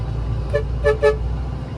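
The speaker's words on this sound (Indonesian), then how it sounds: "Cuma saya klakson aja guys" A parked car sounds its horn on a roadside: one short toot followed by two quick, louder honks close by, over a steady low engine idle.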